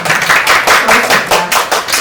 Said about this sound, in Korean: 역시 응원의 박수 한번 부탁드리겠습니다